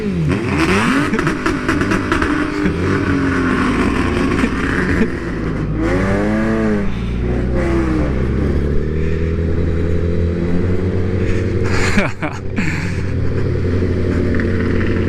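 An old Ford Mustang engine revs repeatedly up and down close by, rising and falling sweeps with clattery mechanical texture and a sharp blip near the end, with no talking.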